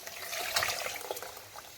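Dried pasta slides into a pot of water for a chicken liver and gizzard dish, making a brief watery splash and trickle, faint and close, with no voices.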